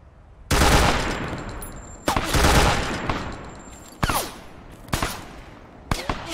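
Automatic gunfire in the military shooter game Arma 3, with loud sustained bursts followed by shorter volleys and brief gaps between them, all close and harsh.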